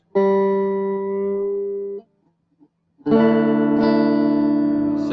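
Stratocaster electric guitar being tuned: a sustained, slightly distorted chord rings for two seconds, stops, then after a quiet gap and a tiny pluck another loud chord rings out with effects-laden shimmer.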